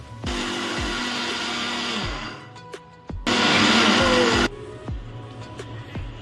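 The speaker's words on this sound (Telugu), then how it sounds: "చల్లారిపోయిన తర్వాత మిక్సీ పట్టుకోవాలి" A kitchen mixer grinder grinds a cooled roasted grain mixture for infant food in two loud whirring bursts, the first about two seconds long and the second shorter, separated by a brief pause with light clattering.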